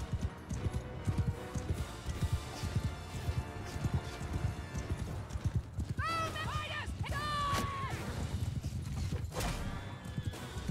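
Hooves clip-clop from many horses in a Mount and Blade Bannerlord battle, a steady rhythm under music and clashing noise, with a couple of whinnies rising in the middle and someone speaking over it.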